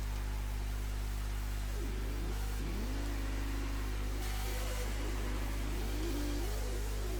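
Cars from the PS2 racing game F1 2001 at the British Grand Prix in spectator mode, a steady faint engine drone with a few high whining passes sweeping up and down.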